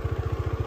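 A KTM Duke 390 engine thrums at low revs in a short, fast, even pulsing burst, close and moderately loud.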